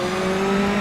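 A race car in GRID Autosport drives under a steady, loud engine drone with sustained tones that suggest tires straining for grip, continuous through the short moment.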